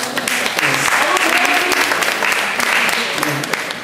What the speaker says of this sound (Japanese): サムちゃん拍手です。